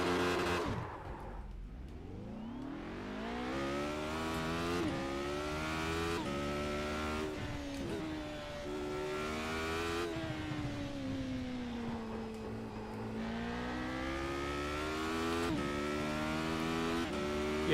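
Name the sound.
Skip Barber race car engine under throttle in iRacing video game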